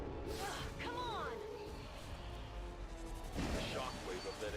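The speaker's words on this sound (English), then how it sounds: "The shockwave of that explosion reverberated throughout most of the city" Explosion in the XCOM 2 War of the Chosen video game, a heavy crash and rumble with debris, then a second deep burst near the end, mixed with game voices and effects.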